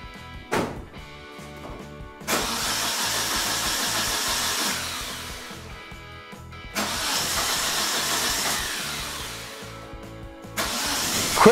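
A cold car engine running on E85 with an HX35 turbo cranks repeatedly in long whirring bursts, with pauses between attempts, loud and close, and no talking.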